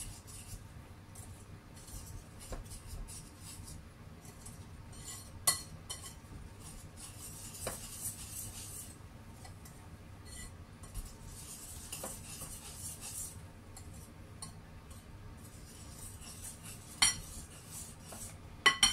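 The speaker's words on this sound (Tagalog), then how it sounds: "1/2 cup sugar, salt. Haluin lang natin." A spoon stirs sugar and salt together in a mixing bowl for pandesal dough, giving steady soft scraping with scattered light clinks against the bowl throughout.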